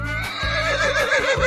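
A horse in a 3D animal video game whinnies loudly and close up, a wavering, continuous neigh filling the short moment with no talking over it.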